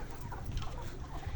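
Laying hens cluck on a poultry farm, a dense flock heard close and fairly loud, with overlapping clucks and a steady barn murmur and no talking.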